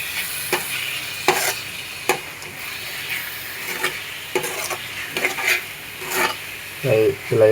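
A spoon stirring cashews and raisins into carrot halwa in a pan, with repeated scraping strokes and soft sizzle-like rubbing at a steady pace, close and fairly loud, no speech.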